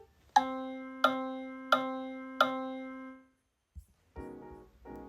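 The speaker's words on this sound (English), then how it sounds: "A measure is made up of just quarter notes would sound like this." A measure of four quarter notes in 4/4 time: one pitched tone is struck four times at an even, steady pulse, each note ringing and fading before the next, followed by a few brief, faint trailing sounds.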